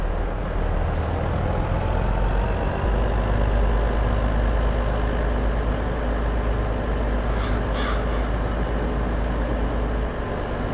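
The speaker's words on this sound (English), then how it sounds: "Glad this truck has a really good top speed." A truck in a video game drives with a steady, loud, low engine drone and constant road rumble, with brief faint hissing bursts rising over it twice.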